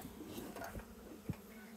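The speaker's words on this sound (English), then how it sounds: "I'm just smoking down some angry bees." Angry honeybees buzz around a beehive being smoked during maintenance, a steady low drone held close throughout with one brief knock near the middle.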